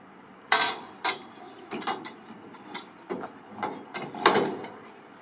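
An aluminium rear rack is slotted into place on the back of a ute, producing a close run of hollow metallic clunks, knocks and scrapes at irregular intervals.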